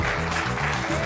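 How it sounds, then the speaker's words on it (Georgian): Studio audience at a Georgian comedy game show bursting into applause, a dense loud wash of clapping over a low musical bed. "აპლოდისმენტები."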